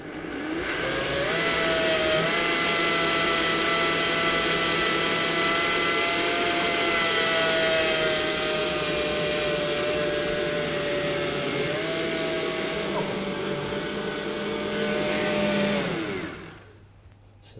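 A blender purees leek and potato soup with a loud, steady motor whine that runs unbroken for over fifteen seconds before cutting off.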